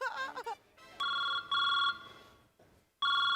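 A mobile phone rings in repeated electronic tone bursts, three clear rings separated by short gaps, loud and close, with a brief voice sound at the start.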